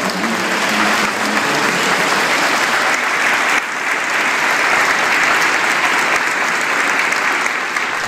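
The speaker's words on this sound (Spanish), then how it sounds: "Nos damos un aplauso nuevamente" A church congregation claps steadily and loudly at a parish 50th anniversary celebration honoring the land donor's family, the dense applause continuing without pause.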